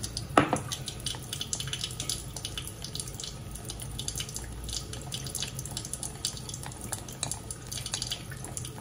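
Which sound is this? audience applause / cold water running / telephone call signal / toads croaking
cold water running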